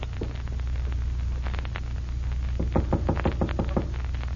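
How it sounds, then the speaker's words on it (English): Knocking on a door in an old radio drama, first a few scattered raps and then a steady series of about eight firm knocks, close and clear over a low hum and hiss. "Wise guy knocking on his own door."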